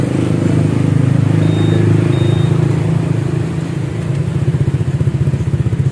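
A Honda Vario scooter with a boxy bobokan aftermarket exhaust idles nearby, a steady low engine drone with a slightly uneven, pulsing rhythm that grows choppier toward the end.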